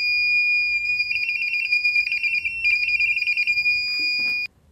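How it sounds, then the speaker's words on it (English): A shrill electronic timer buzzer on an Apple repair tool with its door removed beeps in rapid pulsing bursts, fairly loud and close, then cuts off abruptly near the end. "The buzzer is a lot louder with the door off"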